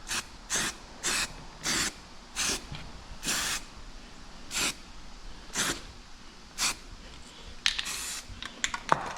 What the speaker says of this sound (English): So it's just some aerosol primer.